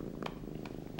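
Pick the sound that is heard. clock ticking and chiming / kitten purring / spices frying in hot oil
kitten purring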